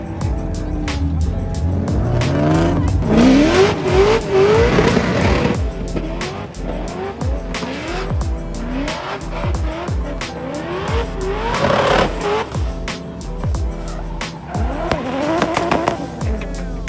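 Drift cars at an Arizona drift and drag event rev hard and squeal their tires in repeated loud bursts, engines climbing and falling through the runs, with crowd noise behind.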